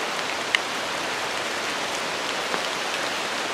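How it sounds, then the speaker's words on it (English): Steady heavy rain pours down in a Costa Rica jungle, a dense continuous hiss of drops hitting surfaces nearby, with no voices. "Starting to rain pretty hard now."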